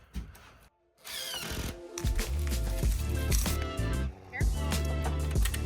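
Power drill driving a screw during a DIY fireplace and cabinet build, a loud close whine that rises and stutters in short surges, with voices around it.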